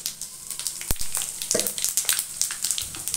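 Fenugreek seeds and cumin sizzle and crackle in hot oil, a steady bright frying hiss dotted with sharp pops and spatters throughout, close and fairly loud with no talking.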